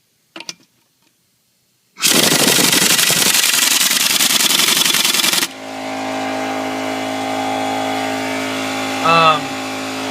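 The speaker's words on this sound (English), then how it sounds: "I just used the impact wrench again just to see what would happen" A loud impact wrench whirs and rattles for a few seconds on a CX500 during transmission removal, then cuts to a lower steady mechanical drone with a brief whine near the end.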